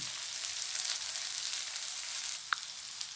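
Sliced onions with a pinch of salt frying in a pan, a steady close hiss of sizzling oil with a faint tap near the end and no voices.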